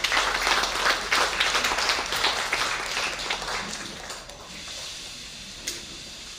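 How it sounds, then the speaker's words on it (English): Audience applause for Professor Brinsley Sumaro at a congress session on the legacy of slavery and indentured labour: a dense burst of clapping that thins and fades over several seconds, with faint voices underneath. "Please, may I have applause for Professor Brinsley Sumaro."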